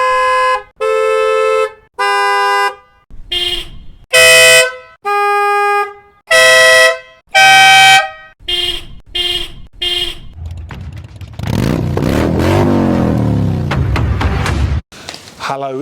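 Aftermarket car horns, including BMW OEM, Aston Martin and Denali SoundBomb units, blast in a loud series of short, separate honks of different pitches, followed by a long, sustained blare.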